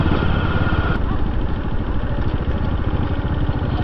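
Two motorcycles ride close by, their engines a loud, steady, rumbling drone that fills the whole moment without letting up.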